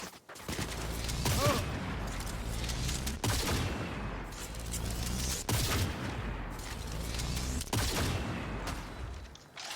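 Gunfire in the video game Cyberpunk 2077, with loud, dense bursts of shots and booms that fill the whole stretch. Sharp blasts punctuate a continuous barrage.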